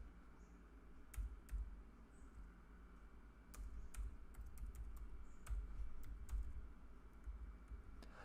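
Computer keyboard typing in quiet bursts of clicks, with scattered separate keystrokes over a low steady background hum.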